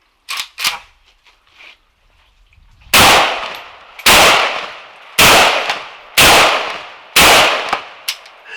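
A Century Arms WASR-10 rifle fired outdoors in the desert: after a couple of faint sharp pops, five loud, evenly spaced cracks ring out about once a second, each with a short decaying tail, followed by a softer shot.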